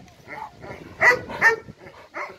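A Romanian shepherd dog of the corb type, a very active chained guard dog, gives a few short close barks and yelps in quick succession.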